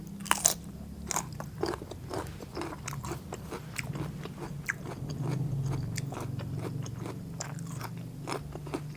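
Someone bites and chews crisp ee-noon vegetable eaten with steamed catfish, giving close, steady crunches and sharp bite snaps at an even rhythm, with no talking.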